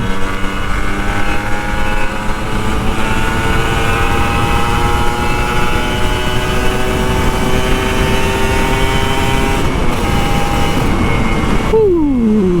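A Kawasaki Ninja RR two-stroke motorcycle revs on an early-morning ride, its engine giving a steady, loud, buzzing drone that holds near and even before dropping away sharply at the end.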